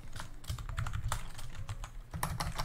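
Rapid clicking of a computer keyboard being typed on, close and crisp, in uneven bursts of keystrokes with short pauses between them, with no voice over it.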